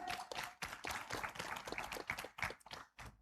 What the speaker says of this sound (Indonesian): kita kembali berikan tepuk tangan